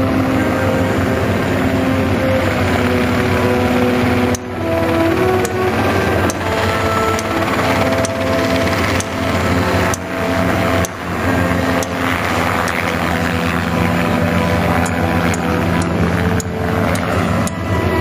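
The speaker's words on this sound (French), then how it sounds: "Deux Robinson R-22 qui sont des hélicos" Two Robinson R22 helicopters flying a choreographed tango display at a world helicopter piloting championship airfield, their steady loud rotor and engine drone continuous throughout with shifting pitch as they manoeuvre.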